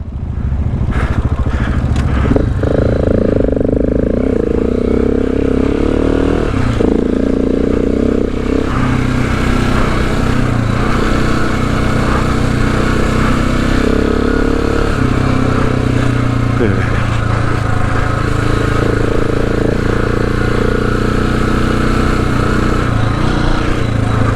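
Motorcycle engine riding off-road on a Cape York adventure track near Cape Melville: a steady, loud engine drone with shifting revs and rattling clatter runs throughout, under occasional voices.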